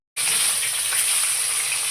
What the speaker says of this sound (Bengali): তেল গরম করে নিয়েছি, এবার মাছগুলো ভেজে নেব।